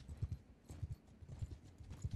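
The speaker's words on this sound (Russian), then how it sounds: "Ревельская скаковая лошадь" Hooves of a Rhenish racing horse clop in Mount & Blade II: Bannerlord, a quiet, steady rhythmic gait of paired hoofbeats repeating about every half second, with no talking.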